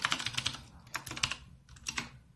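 Quick, light keystrokes on a computer keyboard typing out a short name, clustered bursts of taps with brief pauses, close and fairly quiet with no talking.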